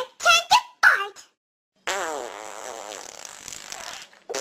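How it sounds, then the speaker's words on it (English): A loud, drawn-out fart sounds alone with a buzzing, rippling texture for a few seconds, after short bursts of speech-like noise and a pause. "It's your turn to fart!"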